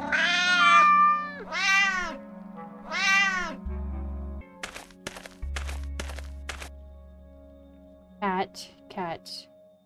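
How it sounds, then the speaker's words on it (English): A cat meows three times in quick succession, loud and close, followed by thumps and clicks, then two shorter meows near the end. "Cat."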